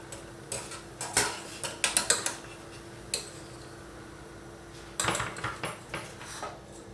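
Potatoes, boiled for three minutes, being lifted out of a pot with metal utensils: bursts of close clinks and scrapes against the pot in two clusters, separated by a quieter stretch with one lone knock.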